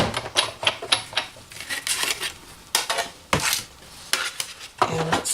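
A Big Shot die-cutting machine rolls paper through a die, making a run of close, irregular clicks, clacks and rattling mechanical knocks.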